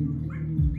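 A dog gives a short, low whimper, a brief whining cry lasting under a second, close and fairly quiet.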